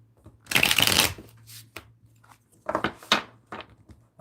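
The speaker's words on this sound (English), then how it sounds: "I'm going to shuffle these ones." Tarot cards shuffle in several brisk bursts of riffling and sliding, close and crisp, with short pauses between handfuls and a faint low hum underneath.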